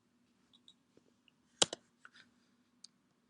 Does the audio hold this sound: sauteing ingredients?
no